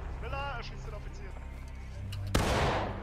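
A single loud, sharp report of a musket-style gunshot in the War of Rights Civil War video game cracks near the end, after a voice speaks over faint background noise.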